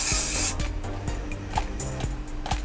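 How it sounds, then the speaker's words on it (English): Hairspray spritzed along the front hairline of a wig gives a sustained close hiss, with a few short soft knocks and rubbing under it and no talk. "will spray the fuck out of the front, just at the hairline, just to hold all that hair back"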